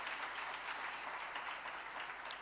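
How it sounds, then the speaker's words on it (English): Applause rises from the audience at a women's leadership summit keynote, a soft, continuous wash of many hands heard faintly from a distance. "let's give them a round of applause for that"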